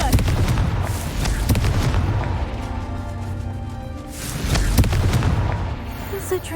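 A Confringo fire spell in Hogwarts Legacy bursts in heavy booming explosions, one near the start and another around the middle, each with a rumbling tail over ongoing game noise.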